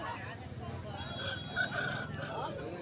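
Grey-feathered Budide Nemali fighting rooster, about a year old and 3.5 kg, crowing once at a village market, fairly faint against a bed of crowd murmur.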